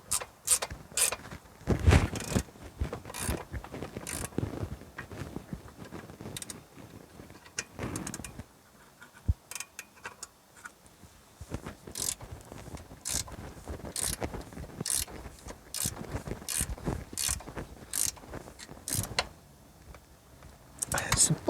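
A spanner tightens a rear wheel hub bolt on a Mitsubishi 3000GT/GTO, making a long series of sharp metallic ratchet clicks and clunks in irregular bursts, close up, with speech around it.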